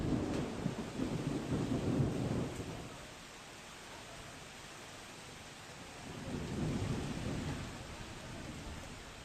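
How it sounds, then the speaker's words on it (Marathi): A hailstorm with rain lashes Karad taluka, a broad steady hiss of falling rain and hail with low rumbling thunder swelling at the start and again later. "कराड तालुक्याला गारांच्या पावसाने झोडपलं"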